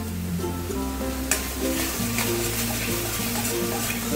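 Dhoka dalna, a Bengali lentil-cake curry, sizzles steadily in a pan as it is stirred, a constant soft frying hiss running beneath louder background music.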